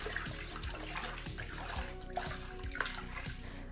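Water with liquid laundry soap sloshes and swirls continuously in a basin as it is mixed, soft and close, with small splashes and drips.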